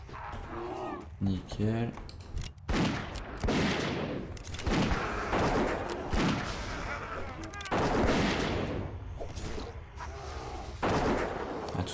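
Rapid gunfire from a dwarf hunter in World of Warcraft, loud repeated shots and blasts in bursts under continual voices talking over them.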